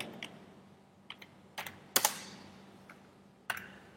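Scattered keystrokes on a computer keyboard while typing HTML code, a few isolated taps and a sharper burst of clicks, close and fairly quiet with no talking.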